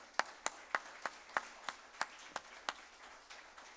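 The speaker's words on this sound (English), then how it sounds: "Let's give them, all of those groups, another round of applause" Sparse, slow clapping at a Canine Companions graduation ceremony: roughly a dozen distinct, evenly spaced claps, fairly faint, with a soft murmur of scattered applause underneath.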